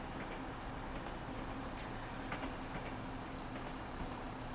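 Train climbing an uphill grade on the Goblin line, a steady low rumble of running gear and wheels on rail with faint rhythmic clicks, continuous and moderately distant throughout.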